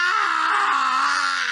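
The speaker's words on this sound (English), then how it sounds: "No, we can do without the scream." A drawn-out, strained scream from a character in the game Langrisser I, one loud sustained cry that wavers slightly in pitch and runs unbroken to the end.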